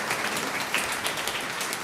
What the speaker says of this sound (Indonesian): Kita beri tepuk tangan untuk panitia Natal kita.